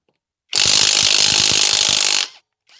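A Fartools CH350 impact wrench loosening a bolt, one loud close burst of rapid hammering lasting under two seconds, then silence.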